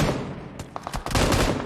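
Gunfire in a competitive shooter video game match, with dense bursts of rapid shots and sharp cracks over a loud, busy game soundscape, near and forceful, without talking.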